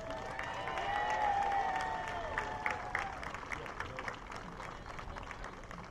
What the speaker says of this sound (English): how about one more huge round of applause for our Tiger seniors?